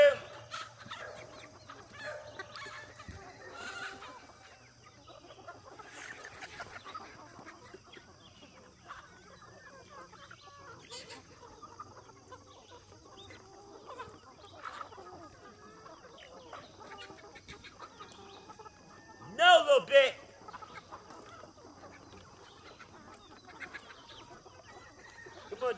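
Chickens and a rooster on a homestead cluck and call softly around the yard, with a louder flurry of squawks near the end and people talking quietly in the background.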